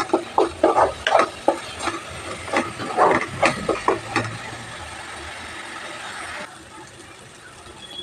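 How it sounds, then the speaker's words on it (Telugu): Ginger garlic paste frying with onion and green chilli paste in a pan for fish curry, a run of sharp scraping spoon strokes over a crackling sizzle, then the stirring stops and a softer steady hiss carries on alone. "ఈ అల్లం వెల్లుల్లి పేస్ట్ పచ్చివాసన పోయేంత వరకు వేయించుకోవాలి."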